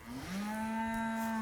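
A cow on a cattle ranch lets out a single long, loud moo that rises briefly and then holds steady, close by and with no voices.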